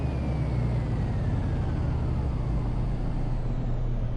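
A car engine idles steadily in the game Car Mechanic Simulator, a constant close rumble with a faint whine that slowly falls in pitch.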